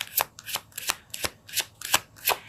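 Tarot cards are shuffled in about seven quick, evenly spaced riffling bursts, crisp and close, with no talking.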